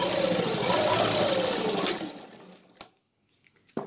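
Sewing machine stitching a bell sleeve, a fast close whirring run of stitches that slows and stops partway through, followed by a couple of sharp clicks and handling sounds in near silence.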